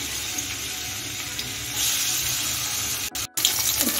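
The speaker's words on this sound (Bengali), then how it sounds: "এখন চিংড়ি মাছটা আমি ভেজে নেব" Prawns frying in white oil in a wok: a steady, close sizzle and hiss throughout, swelling louder midway, with a couple of brief gaps near the end.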